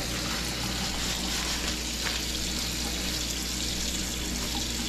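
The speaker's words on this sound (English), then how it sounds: "Luckily, you got this sink down here. Rinse them off." Water from a kitchen tap runs steadily into a sink while food is rinsed under it, a constant broadband gush at close range that holds without a break from start to finish.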